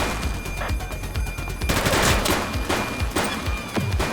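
Rapid bursts of automatic gunfire and overlapping shots from a police simulator video game crackle continuously for a few seconds, dense and loud, without anyone speaking.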